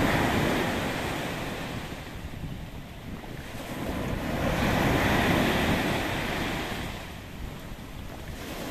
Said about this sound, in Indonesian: Bergulung ombak dengan keras, memecah batu karang di batas